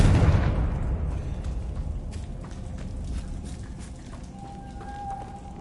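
The Confringo fire spell in Hogwarts Legacy detonates with a loud blast, then rumbles and crackles as it fades over several seconds.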